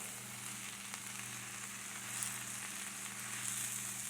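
Cabbage and sausage sauté in a pan with a soft, continuous sizzle under a steady low hum, faint and even throughout with no talking.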